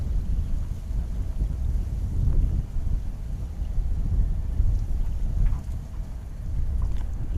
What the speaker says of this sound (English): the EasyJet A320neo coming in from Glasgow